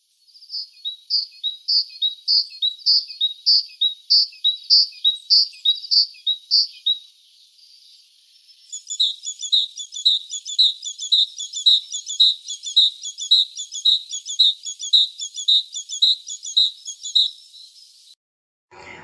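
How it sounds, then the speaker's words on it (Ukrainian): A tit sings a rapid series of high, repeated chirping notes, pauses briefly, then continues with another long run of bright, evenly spaced notes. "Послухайте, як співає синичка."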